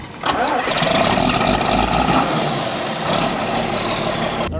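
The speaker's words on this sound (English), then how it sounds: "Let's fire this thing up, and we'll go move that tractor" A farm tractor engine cranks and catches, then settles into a loud, close, steady rumbling idle that runs for several seconds before cutting off abruptly.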